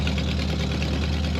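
A 1932 Ford Delivery street rod, a purple automatic hot rod, idles steadily up close with a continuous low mechanical rumble and no talking.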